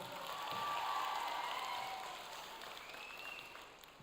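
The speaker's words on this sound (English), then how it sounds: "Give Manus a round of applause as he does that." An audience at a live mentalism and magic show breaks into applause, a dense wash of clapping that builds quickly, holds for a couple of seconds and then gradually fades, with no voices over it.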